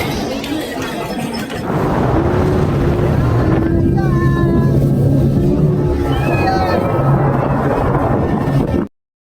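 A speedboat engine drones steadily over rushing water and wind buffeting the microphone, with a high squeal and faint voices underneath.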